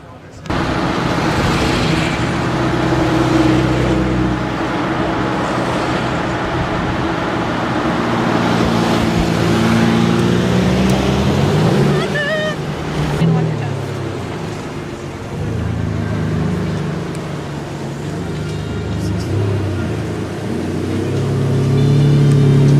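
Sports cars such as a Ferrari 575M Maranello and a Mercedes SLR McLaren pass at a Monterey car event, their engines swelling loud and fading in turn amid crowd noise, with someone talking throughout.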